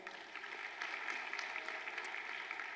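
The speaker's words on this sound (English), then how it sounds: "please give them a huge round of applause" Guests at a wedding reception applaud the couple's family, a continuous wash of clapping at moderate, even level, somewhat distant and with no talking over it.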